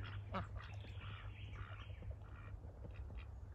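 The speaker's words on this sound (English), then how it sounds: "Some European duck" Ducks at a lagoon on the Cumberland Plain giving repeated nasal quacks and squawks, fairly close and continuous, over a low steady background hum.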